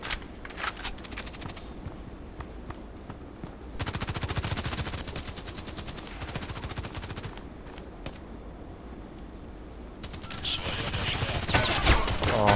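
Repeated bursts of automatic gunfire in the online shooter Contract Wars, with rapid rattling volleys near and loud, brief pauses between, and a heavier stretch of shots toward the end.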